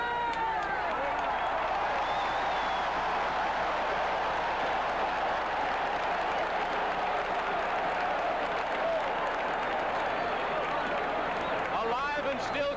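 Dense crowd roar fills a football stadium in Green Bay at a 1978 Oakland Raiders vs Green Bay Packers game, a steady, loud wash of cheering and applause lasting throughout, with broadcast voices talking over it.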